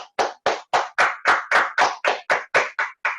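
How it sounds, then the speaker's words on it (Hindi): Rhythmic clapping at a family day event, about twelve even claps, close and loud, spaced evenly around a quarter second apart. "सभी टीम के लिए तालियां बजाएंगे।"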